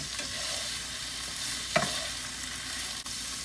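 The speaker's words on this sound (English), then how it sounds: "it's splattering quite high out of this one. But that is the water" Fresh cabbage cooking in a pan, water splattering and sizzling steadily with a brief louder pop partway through, fairly quiet and close.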